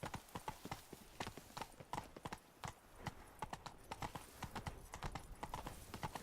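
The horse Roach gallops in The Witcher 3, giving a fast, steady clip-clop of hooves, close and loud, with a faint whinny and no talk.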